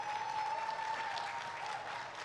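A large audience applauds at the Mastercard Foundation EdTech Conference, producing a steady wash of clapping that stays fairly even and continuous throughout, with no one speaking over it.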